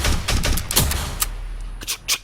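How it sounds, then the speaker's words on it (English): Gunfire and reloading from a film replay: a quick burst of sharp shots at the start, then a pause broken by single metallic clacks and snaps of a weapon being reloaded, close and distinct. "compare the intensity of the gunfire on that gun right there to when he reloads it"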